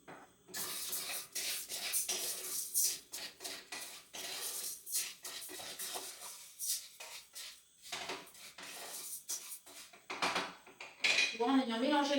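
Basmati rice stirred in a very hot pot with a utensil, giving repeated scraping and clinking strokes against the metal, a light hiss, and a quick rattle near the end, all close and fairly quiet.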